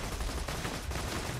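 Borderlands 2 gunfire crackles in a dense, continuous burst of rapid shots, loud and close, filling the short moment without any talk.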